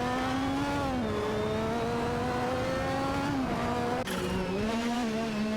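Race cars, an Osler FA1L and a Benetton B188, wail at high revs in a racing game, the engine note rising and dropping through gear changes in a constant loud whine, with no voices.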